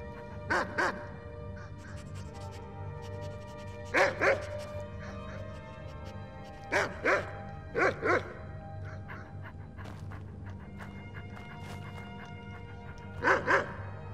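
A dog in the video game Skyrim barking in short bursts, single and double barks spaced irregularly over a low steady game backdrop, without talk.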